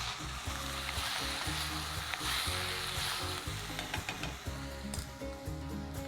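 Chopped onion and tomatoes sizzle steadily in a pan, with a rattling, crackling fry and an irregular pulsing texture that holds at an even level throughout, with no voices.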